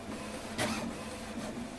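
An HP Officejet Pro 6830 inkjet printer feeds a sheet of paper with a steady low mechanical hum and one short whirring burst partway through, close and fairly quiet, with no talking.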